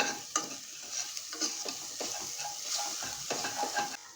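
Ginger, garlic and chili sautéed in a pan with steady oily sizzling and frying, broken by repeated scrapes and stirs of a spatula against the metal, close and continuous for a few seconds.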